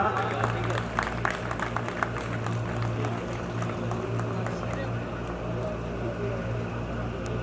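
Audience applause at an honouring ceremony, a fairly faint spread of clapping heard over a steady low hum, with some crowd murmur and a voice in the background.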